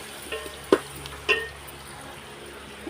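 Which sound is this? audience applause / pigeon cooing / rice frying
rice frying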